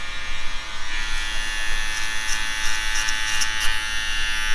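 An electric hair clipper buzzes continuously and loudly up close as a head is given a buzz cut, with a steady motor drone and slight flickers as it moves across the hair.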